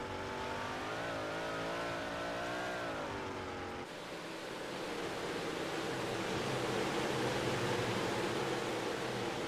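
A 358 Modified Series race car engine roaring on the dirt Lernerville Speedway, a steady sustained drone that shifts pitch and swells into a broad, loud wash of engine noise.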